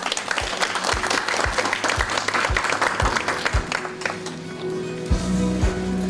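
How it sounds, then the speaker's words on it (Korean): Audience applause at a Korean National Assembly book launch event welcoming a party co-leader to the stage, steady clapping with sharp low thumps mixed in, fairly loud and continuous. "역시 뜨거운 박수로 환영해 주시기 바랍니다"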